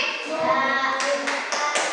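A group of children in an Indonesian classroom do a rhythmic thank-you clap, with several sharp, bright claps in a patterned beat following a short stretch of chanting voices.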